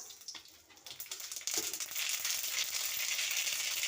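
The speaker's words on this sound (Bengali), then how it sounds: "এই তেলে আমি একটু সর্ষে ফোড়ন দিয়ে দিলাম" Mustard seeds spluttering in hot oil as a tempering for a mourala fish sour curry: a soft crackle that jumps to a dense, loud, steady sizzle and popping partway through, with no talking.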